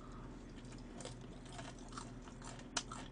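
Crunchy fried chicken batter chewed close to the mic, with soft irregular crunches and bites and one sharper crackle near the end, faint and with no talking.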